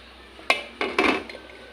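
A lid lifted off a wok of boiling water while making chicken wing soup, giving a few sharp metallic clanks and clatters close by, with a faint bubbling hiss underneath.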